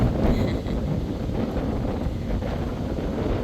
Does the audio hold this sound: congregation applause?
no